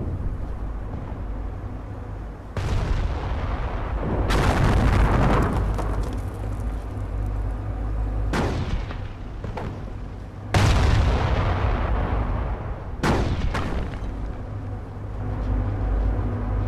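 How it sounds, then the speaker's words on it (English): Mortar rounds from Company of Heroes land in a battle scene as a series of heavy booms, with several sharp blasts spaced a few seconds apart over a continuous roar of gunfire and rumble. "Mortar here! Mortar team, bug it out!"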